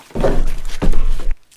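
Applicator gun for Clik pour-on, used to dose lambs of about 20 kg: two heavy, close thunks, each followed by a short low rumble, then silence.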